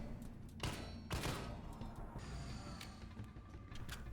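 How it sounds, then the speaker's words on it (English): Automatic weapon fire in the video game Resident Evil 3 Remake crackles in thin, rapid bursts with sharp transient cracks and mechanical clatter, fairly quiet and dense throughout. "Listen to how thin and shitty the gunshots are."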